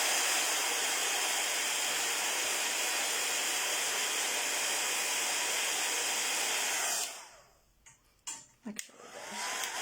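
A heat tool blows hot air to dry wet paint, a loud, steady whooshing hiss that runs for about seven seconds and then cuts off, followed by a few faint clicks and a brief spoken word.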